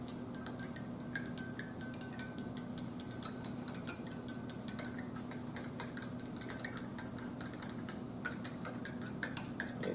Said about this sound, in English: we'll stir that up. I've got a stirring rod here.